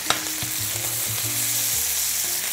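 Meat fries in a hot pan with a garlic clove and thyme, a steady sizzle with occasional stirring scrapes running throughout.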